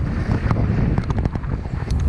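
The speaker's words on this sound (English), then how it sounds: "into a bit of a stiff headwind" Stiff headwind buffeting a microphone during a road bike ride through a Wolds village, a steady loud low rumble with gusty fluctuations throughout and no talk.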